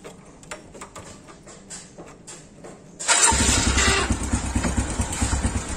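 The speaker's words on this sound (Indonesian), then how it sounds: "Saya nyalakan dulu mesin motornya." A Suzuki motorcycle engine starts after a few seconds of quiet clicking and ticking, then settles into a close, loud, steady idle.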